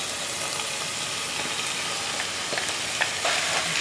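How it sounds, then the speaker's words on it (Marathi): Boiled beef mince sizzles steadily as it fries in a pan for a Goan hot dog filling, with scraping stir strokes growing slightly louder toward the end; no one speaks. "आता हिमो उकडून दवरलेलो न्हू तो घालया."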